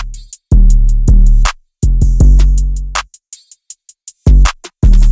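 Deep 808 bass notes tracking the root notes of an emotional piano chord loop, struck in heavy booming hits with gaps between them, including a quick double hit, while crisp hi-hat ticks keep time alone without any voices.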